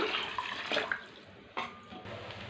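Water pours into a pot in a couple of splashy bursts, close by, with a brief pause between pours.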